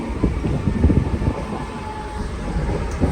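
A Mumbai local train moves along the track with a loud, continuous rumbling roar and rattling carriage noise, heard from onboard, with no talk.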